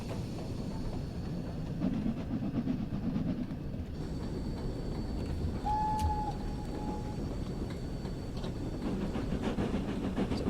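A Fowler 4F steam locomotive on the West Somerset Railway in Train Sim World rumbles past steadily with continuous rolling rail noise, a faint whistle-like tone briefly sounding in the middle.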